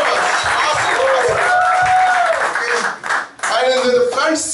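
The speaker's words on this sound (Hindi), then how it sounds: "And clap for me." Audience clapping hands at a lively church gathering, steady dense applause running throughout with voices and shouts over it and a brief dip near the end before it resumes.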